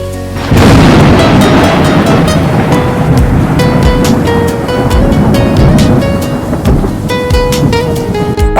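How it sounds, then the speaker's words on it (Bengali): A loud crash of thunder breaks in suddenly, then rolls into a heavy, sustained rumble with pouring rain outside, very close and dominant, with faint tonal sounds running underneath. "বাইরে কেন বিদ্যুৎ চমকাচ্ছে?"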